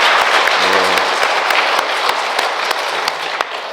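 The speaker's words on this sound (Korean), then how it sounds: "우리 모두를 위해 박수 한번 칠까요?" Dense applause from a congregation at a Catholic charismatic prayer meeting fills the room, a steady, loud wash of many hands with sharp individual claps, and a brief low voice-like tone briefly under it.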